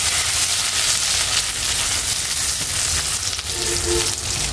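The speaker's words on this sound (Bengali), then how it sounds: "আমি এখানে দারচিনি আর সাদা এলাচ দিয়ে দিচ্ছি। সাদা এলাচ 2টা দিচ্ছি, দারচিনি 2টা, এখানে একটা তেজপাতা দিয়ে দিচ্ছি।" Two cinnamon sticks, two green cardamom pods and a bay leaf fry in hot oil, giving a loud, dense, continuous sizzle with faint stirring underneath.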